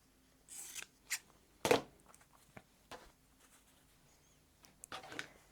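Scissors snip through quilting fabric scraps in a few separate, crisp cuts with short pauses between them, close and fairly quiet in an otherwise still room.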